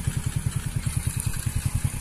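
A modified Honda Supra Fit motorcycle idles or putters at low speed in a fast, even thumping rhythm, close and steady with no talking.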